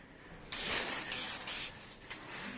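Spray paint hisses onto a moped/scooter as a base coat, in several steady bursts of close, broadband spray separated by brief pauses.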